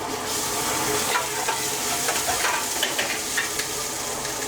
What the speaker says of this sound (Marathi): छान असं तेल तापलेलं आहे आता आणि त्याच्यावरती आता कांदा भाजून घेतला जाईल